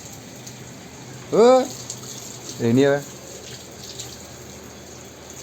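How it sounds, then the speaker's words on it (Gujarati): Rain keeps falling outdoors as a steady, soft hiss of water in the background, while a voice speaks two short phrases over it. "એટલે છે વરસાદ ચાલુ જ છે હજુ।"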